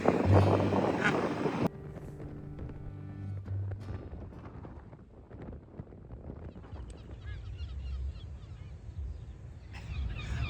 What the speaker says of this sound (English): Look! There's geese walking on the lake.